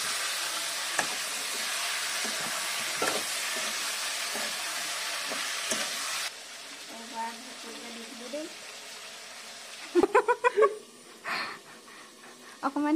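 Meat and potato pieces sizzle in a hot wok, a steady broadband hiss that drops after a few seconds, followed by clattering stirs and scraping sounds as a person speaks nearby.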